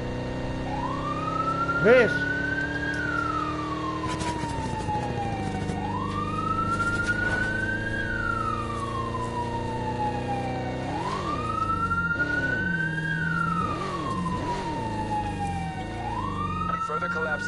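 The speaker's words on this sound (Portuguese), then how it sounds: "Liga a sirene!" A police siren in a video game wails up and down in a slow repeating cycle, loud and steady throughout, with a brief spoken word near the start.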